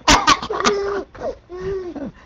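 A person coughs at a party, a few sharp bursts up front, with voices and chatter mixed in close by.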